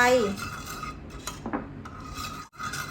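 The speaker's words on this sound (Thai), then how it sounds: "นำแป้งข้าวเจ้าใส่ลงไปในน้ำกะทิ และคนให้แป้งข้าวเจ้าเข้ากันกับน้ำกะทิ" A utensil stirs rice flour into coconut milk in a pot, making close, soft scraping and rubbing strokes against the metal with a couple of light clinks.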